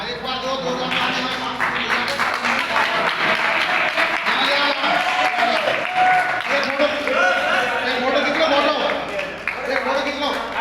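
Audience applause at a training program gathering in Ramnagar, sustained clapping from a crowd lasting throughout, with voices talking and shouting over it.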